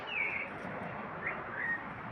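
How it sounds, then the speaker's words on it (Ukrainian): Faint bird chirps ring out a few times over a soft outdoor background hum, brief high calls spaced across the moment. "ну так співають пташки"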